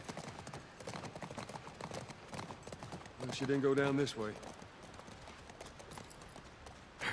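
Horse hooves clip-clop at a steady walking pace in The Last of Us video game, growing louder for a moment, while a person speaks briefly over the rhythm.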